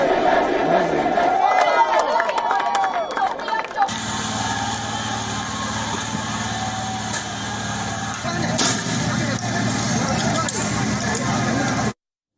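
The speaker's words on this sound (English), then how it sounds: "A massive crowd gathered at Mahinda Rajapaksa's private residence." Protest crowd outside Mahinda Rajapaksa's private residence in Sri Lanka: dense shouting and chanting voices up close, then a steadier roar of the mass with a rumbling engine underneath, ending abruptly.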